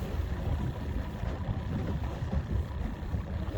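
A boat motor rumbles at a steady idle while fishing for crappie, a continuous muffled throb with no voices over it.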